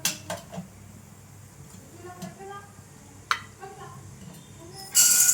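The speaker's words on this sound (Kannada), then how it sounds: "ಓಕೆ, ನೋಡಿಪ್ಪ, ಪ್ಯಾನ್ ಇಟ್ಟಿದ್ದೀನಿ, ಎಣ್ಣೆ ಹಾಕಿದ್ದೀನಿ. ಈಗ ಚಕ್ಕೆ ಲವಂಗ, ಸ್ವಲ್ಪ ಮೊಗ್ಗು," Whole cinnamon and cloves are dropped into hot oil in a pan to temper Vangibath gojju, with light utensil clinks and a voice before a sudden, bright sizzle bursts up at the end.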